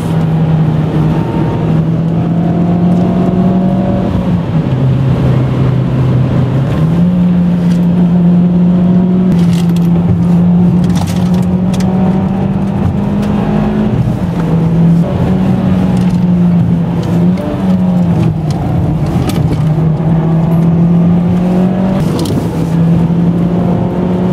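A car driven hard takes a tight corner at high speed, its engine holding a loud, steady drone that dips and rises with shifts in throttle, and road and wind noise rush beneath it.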